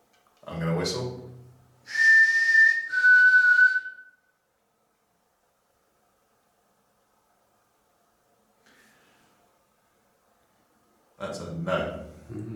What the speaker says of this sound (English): I'm gonna whistle.